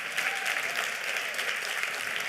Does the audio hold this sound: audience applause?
yes